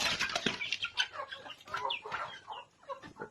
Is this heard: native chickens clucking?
yes